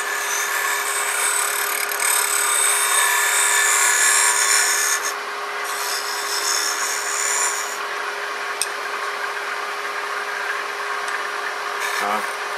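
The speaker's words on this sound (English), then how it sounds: "Gentle cuts, not meant for removing a lot of material, just for finishing." Wood lathe spinning a hollow Christmas ornament while a scraper takes gentle finishing cuts, a steady close rubbing hiss over the hum of the machine, with brief pauses in the contact.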